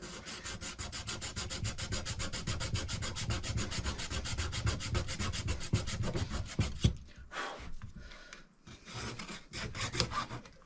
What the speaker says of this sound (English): Just cut this flange off a bit flatter here.